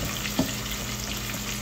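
Food sizzles and crackles steadily in a hot pan, a constant hiss of frying oil with no voices over it.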